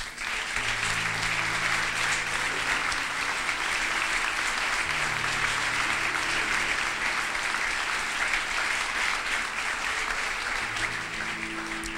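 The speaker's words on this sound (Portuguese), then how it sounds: "Você pode aplaudir o nome do Senhor?" A church congregation at a youth congress applauds the name of the Lord, a dense, steady wall of clapping that holds for about twelve seconds over soft sustained musical tones.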